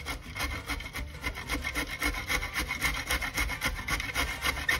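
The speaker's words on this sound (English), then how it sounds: "we're using the larger grate holes. And all we're going to do is we're going to grate that yuca." Yuca scrapes across the large holes of a hand grater in quick, rhythmic rasping strokes, a steady close-up scratching that continues without pause and with no talking.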